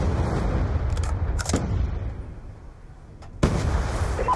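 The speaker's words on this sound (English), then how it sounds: "Friendly Hellstorm missile inbound." Hellstorm missile strike in Call of Duty Black Ops 2: a sustained low rumble of distant booms and impacts, punctuated by a few sharp bursts, with a heavier blast near the end.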